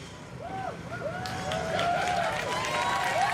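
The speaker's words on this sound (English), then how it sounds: "Yes, big a round of applause." An outdoor crowd at the Trans Pride March in Melbourne applauds and cheers, a sustained wash of clapping that swells louder midway, with whistle-like rising and falling tones and passing street noise.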